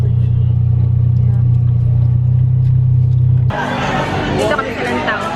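City traffic in Cebu, Philippines: a loud, close engine hum drones steadily, then cuts abruptly to a busier street wash of passing vehicles, horns and chatter, with voices talking over it.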